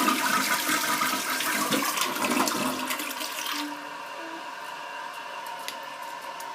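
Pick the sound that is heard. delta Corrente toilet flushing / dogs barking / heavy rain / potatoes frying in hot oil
delta Corrente toilet flushing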